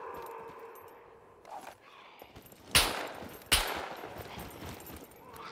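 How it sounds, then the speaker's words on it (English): Two sharp gunshots ring out in the video game SCUM, a moment apart, loud and close against a low ambient background, with no talk during the shots. "Shoot them on the floor."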